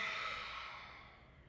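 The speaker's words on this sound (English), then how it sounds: "an exhale out of the mouth, sticking out your tongue" One slow, breathy exhale pushed out through the open mouth with the tongue sticking out, close and soft, fading away over about a second.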